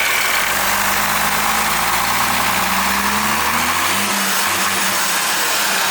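A Hino P11C truck diesel engine, 320 horsepower with an in-line pump, runs loud and close, its deep harmonic tones rising and shifting as it revs, then settling into a rougher idle toward the end.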